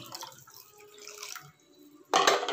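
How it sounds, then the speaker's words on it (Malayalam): Thick first-extract coconut milk pours into a pot of beef kurma, a soft liquid trickle and drip that ends in a brief, louder splashing burst near the close. "നല്ല കട്ടിയുള്ള ഒന്നാം പാല് ഇതിലേക്ക് ഒഴിച്ച് കൊടുക്കാം"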